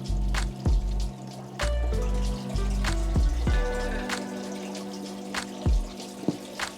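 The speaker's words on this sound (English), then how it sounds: "We've got our sponge rinsed and we are ready to refill the Trophia's tank" Water is poured in to refill a goldfish aquarium tank, heard as close splashing and trickling in uneven bursts with brief pauses and drips between pours.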